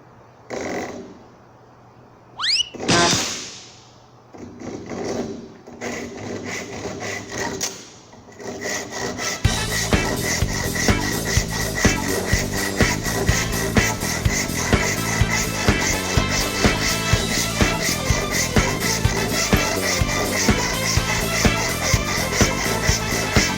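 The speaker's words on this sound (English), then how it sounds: "I'm going to switch to my coarse back saw to get that started" A coarse backsaw cuts a wooden tenon. A few handling knocks and scrapes come first, then a steady run of rhythmic, rasping push-pull strokes continues loud and close.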